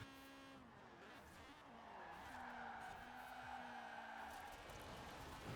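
A small Mini car in the racing game Forza Horizon 4 revs hard with a buzzing engine note that rises and shifts, while the tires squeal and skid continuously through a drift.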